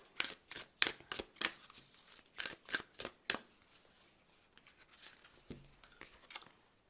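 Moonology oracle cards shuffled close by, a rhythmic series of crisp papery riffles in the first few seconds that thins to lighter, sparser flicks, with no voice.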